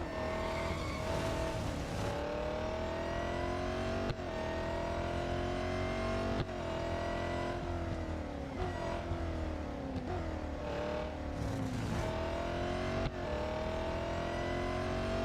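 Race cars in the Real Racing 3 mobile game, engines revving and shifting gears in repeated rising sweeps, with tire squeal and a steady, close, fairly quiet roar.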